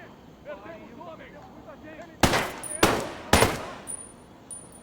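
Three sharp, loud bursts of gunfire from an RX-200 weapon in the shooter video game Ghost Recon, spaced about half a second apart after a stretch of quiet background with faint talk.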